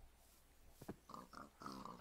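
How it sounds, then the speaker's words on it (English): Pigs oinking on a pig farm in the Minecraft video game: a few short, snuffly grunts coming in quick bursts, fairly faint and close together, with no talking. "As you can see, my pig farm is finally going. I've got pigs everywhere."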